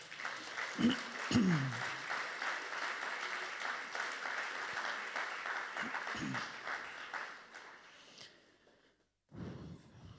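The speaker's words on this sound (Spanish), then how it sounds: "Denle un aplauso a Dios." Church congregation applauding, a fairly quiet wash of clapping with a few gasps or sighs near the microphone, fading before a brief pause and a short burst at the end.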